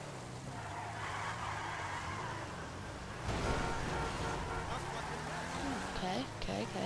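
A car drifting and skidding in a GTA video game, with engine roar and tyre screech running continuously at steady loudness and growing a little louder partway through, while a voice talks over it.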